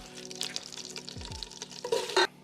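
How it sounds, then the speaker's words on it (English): Onions tossed into melted butter in a pan, a close, soft sizzle with light stirring and scraping, swelling to a brief louder burst just before the end. "I'm gonna go ahead and just toss in these onions."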